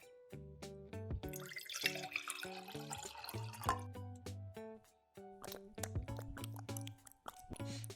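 Water being poured for a pet dog in the game Best Friend Forever: gentle dripping and trickling tones with tonal plinks, soft and close, over quiet game music.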